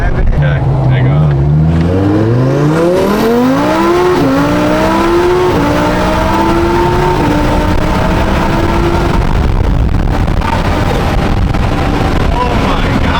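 A supercharged Audi R8 accelerates hard from inside the car, its engine roaring loudly and climbing steeply through the gears with short dips at each shift, under constant wind noise.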